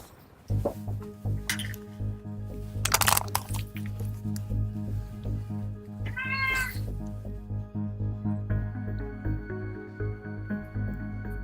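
A 16-year-old cat meows, one clear harmonic cry near the middle, over a steady, loud background of electronic game music during a live stream.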